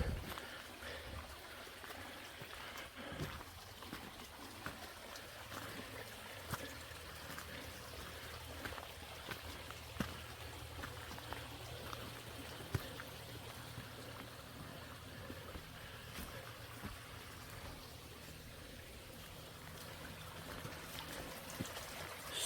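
A quiet, steady rush of water in the North Branch of Stewart Creek on the Superior Hiking Trail, Minnesota, continuous and soft throughout, with occasional faint clicks and bumps nearby.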